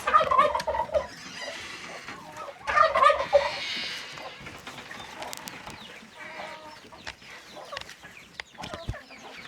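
Fowl on an organic farm: loud gobbling turkeys burst out in two rapid volleys, then softer clucks and scattered farmyard calls carry on close by with no talk.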